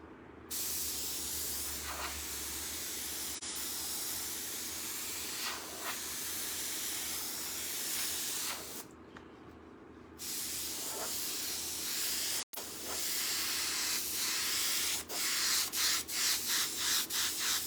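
An airbrush laying a base coat of paint on a hoodie, a close steady spray hiss that cuts off in a few short pauses and ends in rapid bursts.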